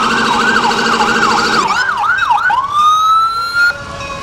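Fire department trucks and emergency vehicles roll through a Fourth of July parade in Chautauqua County, their loud wailing sirens sweeping up and down, then shifting into a rising steady tone, close by.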